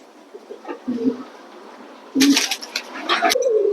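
A red checker male pigeon coos in low, soft bursts, with a couple of short rumbling coos close by and a brief rustle between them.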